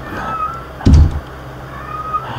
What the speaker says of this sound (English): That's my cat, sorry about that.